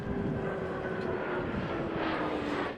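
Blue Angels jet aircraft roar overhead at the Jones Beach air show, a loud continuous engine rush with a faint rising whine and no voices.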